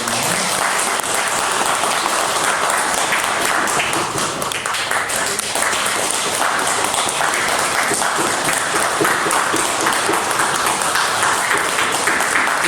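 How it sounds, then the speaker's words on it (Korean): A church congregation at a Christmas service applauds loudly and steadily, dense clapping filling the room without a break, with a faint murmur of voices underneath. "박수 쳐주시기 바랍니다."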